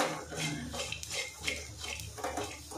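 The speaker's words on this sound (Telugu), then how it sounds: "ఇందులో జీలకర్ర కూడా వేయాలి చూడండి, వేసేస్తున్నా. పల్లీలు మాడకుండా వేయించుకోండి" Peanuts and cumin seeds roasting in a pan, with faint scraping and clinking of a utensil stirring against the metal in irregular strokes, close and without talk.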